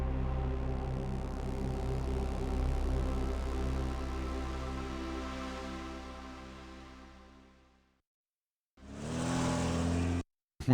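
A car engine in the CD-i video game Laser Lords gives a steady droning hum that gradually fades out. After a brief silence, a short, loud burst of engine noise cuts back in.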